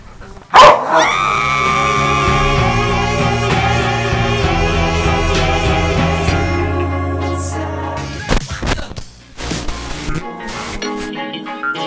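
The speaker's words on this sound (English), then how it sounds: "Cute little doggy." A small dog barks and yaps in sharp bursts, close by, over a busy background with music-like tones.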